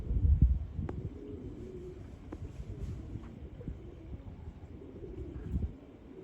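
Pigeons cooing in extremely cold weather, soft low coos heard faintly through outdoor wind and rumble, with a few scattered bird sounds.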